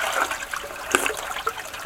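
Cold spring water runs in a steady, close trickle, with a brief brighter splash near the middle and no talking.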